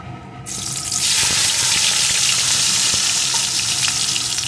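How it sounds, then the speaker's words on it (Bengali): Chopped onion hitting hot oil after the spices have been tempered for a pomfret mustard curry, a sudden loud sizzle that swells and then holds steady and close. "পেঁয়াজ কুচিটাও একটু ভেজে নেব"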